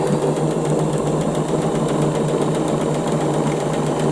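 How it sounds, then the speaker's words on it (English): A sewing machine stitching a straight seam on a small lavender bag, a fast steady mechanical whir with evenly ticking needle strokes, close and continuous with no talk. "So very simply, we're going to sew in a straight line,"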